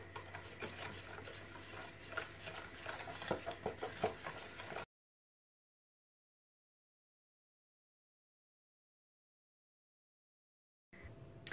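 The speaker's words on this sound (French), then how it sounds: "je vais donc fouetter ensemble les œufs, le sucre plus la maïzena" A whisk beats eggs, sugar and cornstarch together in a bowl for pastry cream, a quick, soft, rhythmic clatter for about five seconds, then silence, and the whisking briefly resumes at the end.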